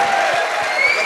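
Audience applause at a live Punjabi comedy show in Faisalabad, a dense, loud burst of clapping from a crowd, brief and continuous.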